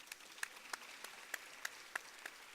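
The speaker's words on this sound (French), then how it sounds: "Ça mérite un applaudissement quand 100 ans." Audience applause in a bullring arena at its centenary celebration, sparse, distant clapping with a few separate claps rising above faint crowd noise.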